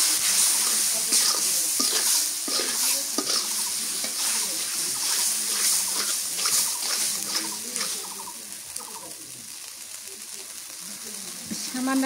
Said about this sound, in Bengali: সামান্য একটু পানি দিয়ে দিই।